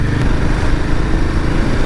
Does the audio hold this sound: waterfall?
no